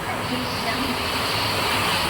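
Rainwater gushes and splashes continuously into a house during a severe rain and wind storm, a steady rushing stream fairly close, with no clear talking over it.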